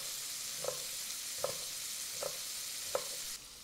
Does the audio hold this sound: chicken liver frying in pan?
yes